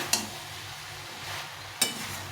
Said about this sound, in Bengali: এটাকে ভালো করে নেড়ে নেড়ে মিশে নিতে হবে